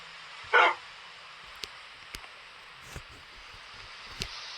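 A single short Minecraft dog bark stands out against a quiet hiss, followed by a few faint clicks and taps.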